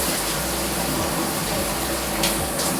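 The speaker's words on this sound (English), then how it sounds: "it is a high pressure water that comes out" Strong, steady hiss of high-pressure water spraying from a handheld shower head, a continuous dense rush filling the whole clip at close range with no talking.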